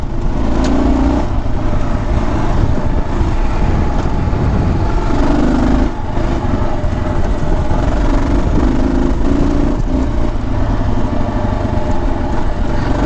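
Motorcycle engine running steadily close by while riding along a gravel road, a continuous loud rumble with engine drone and crunchy road noise throughout, a brief dip near the middle, no voices.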